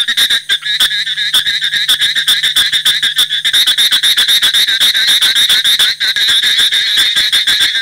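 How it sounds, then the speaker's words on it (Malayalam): A chorus of pond frogs after sunset in the rainy season croaks loudly and continuously, rapid overlapping pulsing calls close by, with no talk. "സൂര്യൻ അസ്തമിച്ചു കഴിഞ്ഞാൽ ഞങ്ങൾ ഇവിടെ ഉണ്ടേ എന്ന് കരഞ്ഞു തുടങ്ങും കുളത്തിലെ തവളകൾ."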